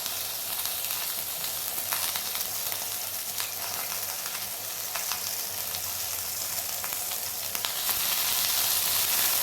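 Spring onions and garlic frying in a pan, an even, close crackling sizzle that holds steady and grows slightly louder near the end, with occasional light stirring and no voices.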